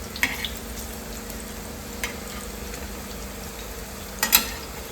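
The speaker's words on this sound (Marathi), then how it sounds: "अशी भजीसारखी बी सोडू शकतो आपण तेलामध्ये" Seeds dropped into hot oil like bhaji fry with a quiet, steady sizzle in a home kitchen, broken by a few soft clinks and taps.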